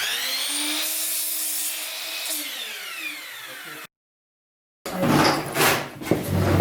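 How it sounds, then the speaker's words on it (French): Hand sanding of wooden armchair parts in a DIY workshop, a smooth rasping rub that sweeps back and forth for a few seconds, then a short silence, then rougher, louder scraping strokes. "Tu vas juste poncer les extrémités"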